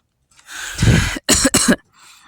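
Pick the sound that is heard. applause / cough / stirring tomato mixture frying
cough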